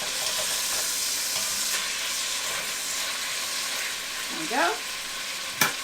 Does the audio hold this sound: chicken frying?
yes